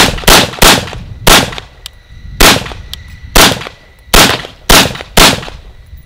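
AR-15 rifle fitted with a Troy Medieval 556 muzzle brake fires about nine loud, sharp shots, some in quick pairs and others spaced apart, each with a short ringing tail and no talking.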